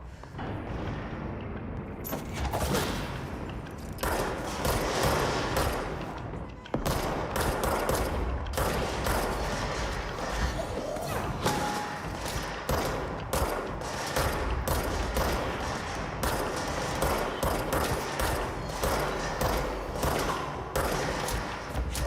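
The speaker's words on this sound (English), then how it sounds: "I hear gunfire." Rapid bursts of video game gunfire in Control crackle almost nonstop, with heavy thuds and dense volleys packed together, loud and close throughout.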